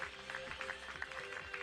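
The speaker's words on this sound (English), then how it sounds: "the crowd gives them a nice round of applause" A stadium crowd at an all-star soccer game applauds the players, steady clapping and cheering that hold across the whole moment at moderate distance.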